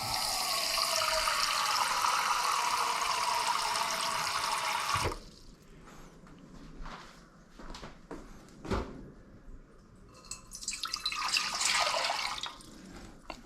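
Water gushes from a tap into a cooking pot on a gas stove for ramen, a steady splashing pour that stops abruptly, followed by drips and clinks, then a second short run of water.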